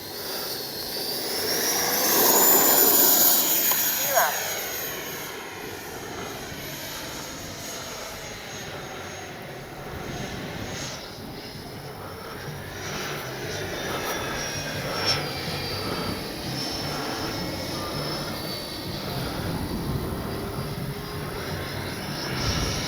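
An E-flite 90mm Viper RC model jet flies overhead, its ducted-fan whine swelling loud early, then holding as a steady, sweeping roar that fades and returns as it passes, with no voices.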